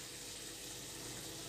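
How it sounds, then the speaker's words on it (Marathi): Hot water pours in a faint, steady stream into a mixed vegetable curry of hyacinth beans, eggplant and potato, a soft continuous splash with no talking. "त्याच्यामधून मी थोडंच पाणी घातलेलं आहे."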